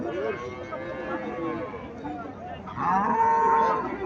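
A red native cow moos in a low, drawn-out call that swells louder toward the end, with people talking nearby.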